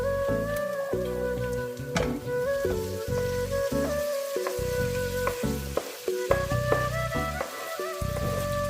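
Fennel and cumin seeds fry in hot oil for a mutton curry with Jaffna curry powder, giving a loud, close, crackling sizzle with scattered pops and stirring clatter.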